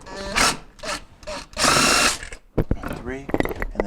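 A power driver removes 1/4-inch screws that hold the ice maker in a Jenn-Air refrigerator freezer. It sounds in short, loud bursts with pauses between them, and a person talks briefly near the end.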